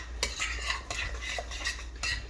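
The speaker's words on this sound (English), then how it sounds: "Yeah, just mix it" Crab pâté being mixed with a spoon in a bowl, with a few clinking scrapes of metal against the dish, close up and fairly quiet.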